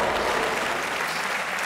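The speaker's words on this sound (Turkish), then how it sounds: "Acun Bey'e kocaman bir alkış alabilir miyim?" A television talent show studio audience claps in loud, dense, continuous applause that fills the room and stays steady throughout, with no voices over it.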